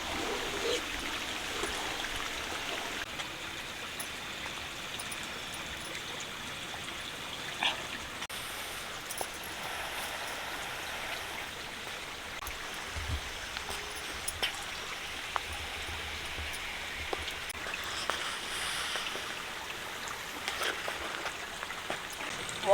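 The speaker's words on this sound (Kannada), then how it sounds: "ಮಳೆ ಸಿಕ್ಕಾಪಟ್ಟೆ ಮಳೆ." Heavy monsoon rain falls steadily over paddy fields, a soft, even wash of rain and trickling water running throughout with occasional faint drips and no clear talk.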